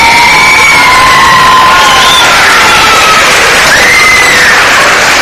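A cheering section at the 2003 Miss Strassenfest pageant shouts and whoops loudly and close by, with rising and falling whoops standing out over a continuous roar of crowd noise.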